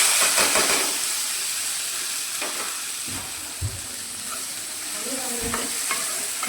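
Chopped onion, tomato and garlic fry with roasted cumin over lowered gas in a steady hissing sizzle, punctuated by scraping stir strokes and a few soft knocks of the spoon, close and with no talking.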